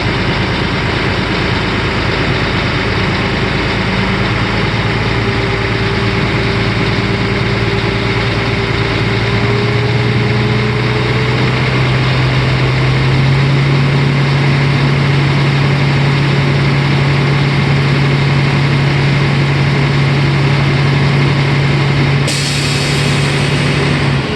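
A truck engine idles steadily for the whole stretch while building air pressure, a deep continuous rumble with a rising tone as pressure builds, then a brief shift near the end.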